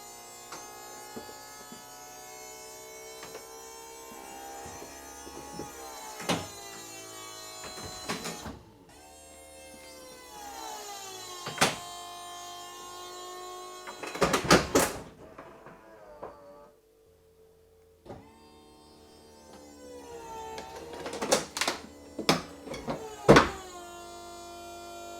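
The motorised convertible roof of a VW Eos opens, with whining electric motors that rise and fall, punctuated by several clunks and thumps and a short pause partway through.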